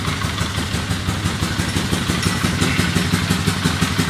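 A 2002 Polaris Sportsman 500 HO ATV with stock exhaust idling up close, a steady low rhythmic thumping engine note with mechanical clatter, loud and unbroken.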